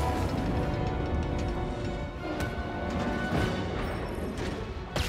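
Rapid blaster shots crackle over a dense, noisy game soundscape in Jedi Fallen Order, with sharp zaps and impacts at irregular intervals.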